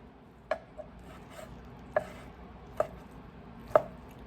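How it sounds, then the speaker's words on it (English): A knife chops cooked chicken on a board for chicken salad, four separate sharp, close knocks spaced unevenly over a quiet background. "And then I'm just going to go through and chop this up."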